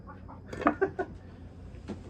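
A pet hen comes out near someone handling buck knives, giving a few soft clucks in a quick cluster, then one more after a pause, fairly quiet and close.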